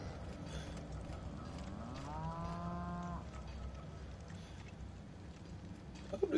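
Cows moo aboard a spaceship in the video game The Outer Wilds: one drawn-out, rising bovine call over a low, steady ambient hum, moderately near, with no other sounds standing out.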